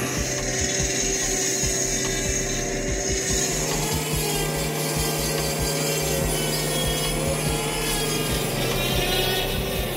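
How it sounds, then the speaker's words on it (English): Continuous grinding whine of a large 1830mm sawmill saw cutting through wood, steady and loud throughout with a rough rasping texture underneath. "This 1830mm saw is equipped with a blade specifically designed for wood sawing applications"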